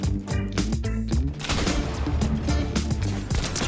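Dense, continuous gunfire from the video game Fortnite in Creative mode, with overlapping rapid shots and bursts that run loud and unbroken through the whole clip, with no talking.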